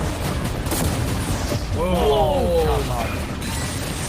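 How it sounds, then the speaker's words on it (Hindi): Cannons firing on a yacht in a video game, heavy booming and shattering destruction mixed with whistling, sliding tones, a dense, loud, continuous barrage with a voice talking over it. "वो कैनन्स अभी से शॉन की यॉट को तोड़ रहे थे"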